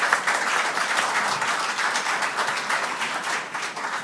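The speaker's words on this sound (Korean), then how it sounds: "큰 박수 부탁드리겠습니다" A large crowd at a Korean party convention claps steadily in dense, sustained applause that holds for several seconds without a break.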